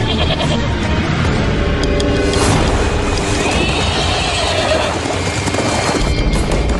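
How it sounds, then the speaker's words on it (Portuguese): A horse neighs loudly within a dense, noisy backdrop that runs throughout, with no speech. "Um animal que dá a qualquer ser humano que saiba domá-lo uma vantagem quase imbatível. É o cavalo."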